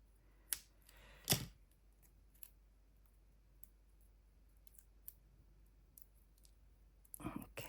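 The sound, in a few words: scissors snipping card for ink blending brushes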